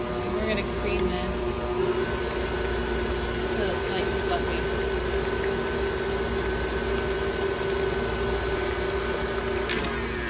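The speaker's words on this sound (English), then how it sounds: "So let's get this in the mixer. We're gonna cream this." Stand mixer creaming gluten-free, dairy-free compost cookie dough, a steady loud motor whir with a constant drone, running without pause throughout.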